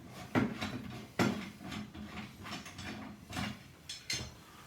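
Unscrewing a shower leveling fixing during a bathroom refit produces a series of close, quiet mechanical clicks and ratcheting turns, several distinct taps spaced irregularly over a few seconds with low room noise.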